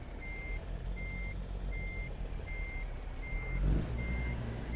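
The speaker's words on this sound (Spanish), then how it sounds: "Qué bonito suena ese motor, ¿eh? Ruge chido ese motorcito" Kenworth K100 truck in American Truck Simulator, a steady low engine rumble under a loud, evenly spaced reversing beep that repeats about six times, with a brief air hiss near the end.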